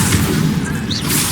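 Incendio fire spell cast in the video game Hogwarts Legacy, a short booming whoosh of fire with a thick low rumble, loud and close, lasting just over a second.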